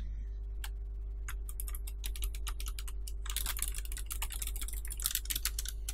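Keys clatter on a Razer Ornata Chroma keyboard, starting as sparse, separate presses and speeding into a dense burst of quick clicks, close up over a low steady hum.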